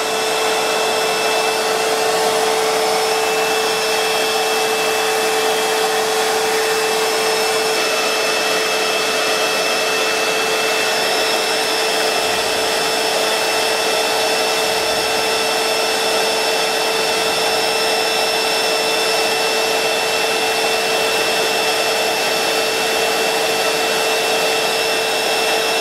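A wet vacuum draws water out of a domestic water heater in a continuous, loud, even whine with a steady high-pitched tone running throughout and no pauses.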